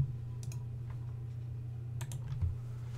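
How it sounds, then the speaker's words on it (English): Soft, scattered keystrokes on a computer keyboard while entering a command in a Subnautica game session, faint clicks in short bursts over a constant low electrical hum. "I'm typing that in wrong."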